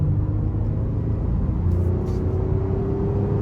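A 2023 Honda Pilot Touring AWD with the 3.5 engine pulls forward under light throttle, giving a steady low rumble from inside the cabin with a gently rising engine tone.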